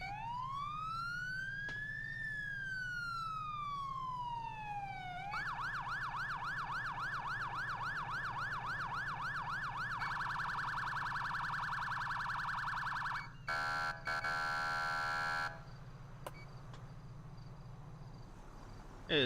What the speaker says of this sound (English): It is a very beautiful siren that I rarely hear down here in Florida.